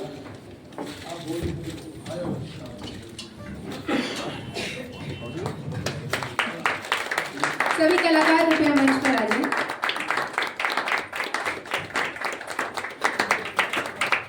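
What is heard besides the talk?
audience clapping after a theatre play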